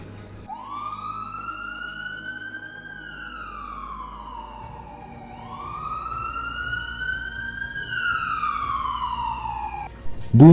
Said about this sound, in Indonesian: Bunyi alarm tanda bahaya terdengar di mana-mana.